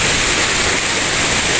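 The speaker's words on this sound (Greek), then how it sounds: "Τώρα ρίχνει χαλάζει, αγάπη μου." Hail falling outdoors, a loud, dense and continuous hiss of pelting ice with no breaks and no voices.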